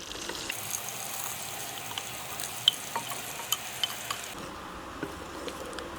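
Whole spices (cumin seeds, cloves, star anise flower and cinnamon) frying in hot oil for Lahori chickpea curry, a soft steady sizzle with faint crackles and a few sharp pops, no talking.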